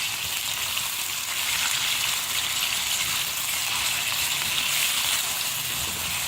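Mutton pieces frying in oil on a high flame for bhuna gosht, a loud, dense, continuous sizzle that stays even and close throughout with no talking.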